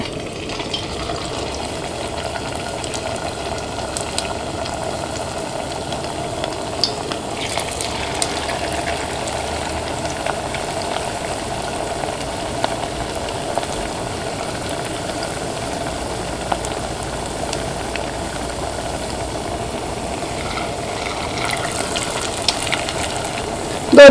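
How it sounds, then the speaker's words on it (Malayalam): Homemade snacks made from two ingredients and flattened dough, dropped piece by piece into hot oil, sizzle and bubble steadily and close by in a continuous frying hiss, with no one talking. "ഇപ്പോൾ ഓയിൽ നന്നായിട്ട് ചൂടായിട്ടുണ്ട്. ഇത് ഓരോന്നും ഇട്ടിട്ട് വറുത്തിട്ട് എടുക്കുക."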